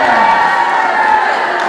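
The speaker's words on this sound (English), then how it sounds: "Cheer for the 7th graders." Students cheer at a school Bible contest, a steady wash of crowd shouting and whooping that holds level and loud throughout the short stretch.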